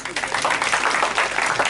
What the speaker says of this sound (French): Je voulais vraiment des applaudissements pour lui.